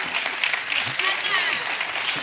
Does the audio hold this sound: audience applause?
yes